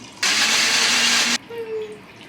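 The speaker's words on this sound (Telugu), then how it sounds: "నేనైతే మిక్సీ పట్టేసుకుంటాను" A kitchen mixer grinder grinds masala for a Telugu-style fish curry in one loud, harsh whirring burst of about a second that cuts off abruptly, followed by a quieter low hum.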